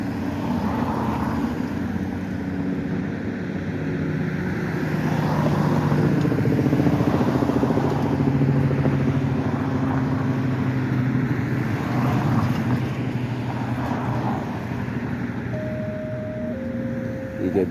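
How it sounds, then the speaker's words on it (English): Traffic on a city street with a bike lane: a steady broad engine rumble from passing cars, swelling as vehicles go by, fairly close, with faint voices in the background. "You gotta be careful with these cars."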